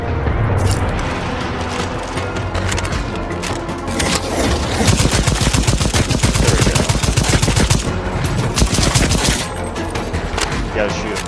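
Sustained rapid gunfire and bursts from the co-op shooter Second Extinction, loud and continuous with explosive booms mixed in, filling the whole stretch without a break.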